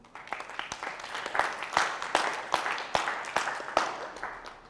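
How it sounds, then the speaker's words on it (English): An audience at a business event claps for itself, a lively stretch of many hands that swells to a full, dense patter, with sharp individual claps standing out near the front. "Clap for yourself."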